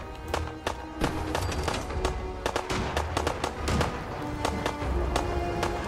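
Gunfire aimed at the player in the video game Fallout 4 cracks in rapid, irregular shots and bursts, loud and close, continuing throughout with game sounds beneath.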